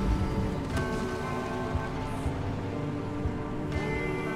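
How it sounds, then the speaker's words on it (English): Rain from a corrosive squall in the Pacific Drive video game, a constant dense patter and hiss heard up close, with steady engine hum and faint tonal beeps underneath and no speech. "See if we can't get out of this rain."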